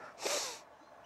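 A single sharp sniff in through the nose, a brief breathy hiss lasting about half a second, close and fairly quiet, with no talking.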